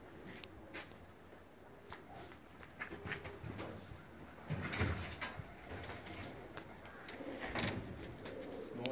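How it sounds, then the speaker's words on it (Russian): Marble pigeons coo softly at a distance amid faint rustling and light tapping sounds, quiet and intermittent. "Вот они голуби пошли."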